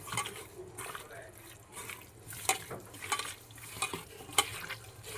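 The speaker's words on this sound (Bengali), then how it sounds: "এবারে ভালো করে মশলা সমেত নিয়েরে মাছ ভালো করে মাখিয়ে নেব।" Fish being mixed by hand with mustard oil and ground spices, giving wet squelching and stirring sounds with scattered sharp clicks while a voice talks intermittently.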